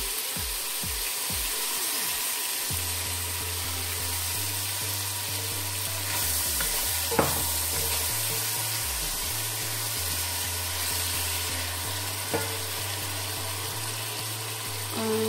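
Meat frying in a pan with garlic and soy sauce, a continuous sizzle and hiss with low steady hum underneath and an occasional sharp clink, no speech.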